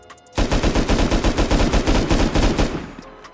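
LR rifle firing a full spray in Rust Console Edition: one continuous rapid burst of about twenty loud, evenly spaced shots over roughly two and a half seconds, ending abruptly with a brief mechanical click afterward.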